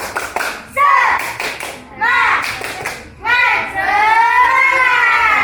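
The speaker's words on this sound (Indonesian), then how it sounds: "Coba kelompok hijau, tepuk semangat." A kindergarten group of children shouting an Indonesian spirit chant in unison, punctuated by sharp rhythmic clapping in quick bursts, loud and close.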